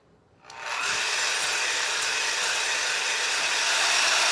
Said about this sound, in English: I'm using an electric mixer that I found at the back of the cupboard